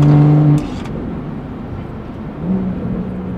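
A BMW F30 340i engine running on an MHD tune while driving, a loud steady drone with a tonal note that drops off briefly and returns, heard from inside the car.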